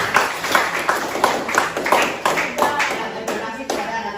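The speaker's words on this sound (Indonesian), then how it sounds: "tepuk tangan untuk kita semua." Students in a classroom clap in unison, a rhythmic series of sharp hand claps at a steady pace, roughly two per second, close and fairly loud.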